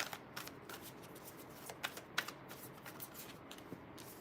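A deck of cards is shuffled close by, making a quiet run of rapid riffling flutters with a few sharper snaps as the cards fall together.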